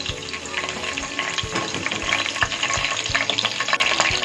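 Curry leaves fry in hot oil in a kadai as tempering for a kalav masala, giving a dense crackling sizzle with stirring scrapes that grows louder and busier toward the end, with no talk.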